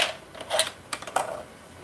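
Swapping the zipper presser foot for the regular foot on a sewing machine: a few sharp metallic clicks and taps, close and fairly loud, spaced across the short moment with no talk.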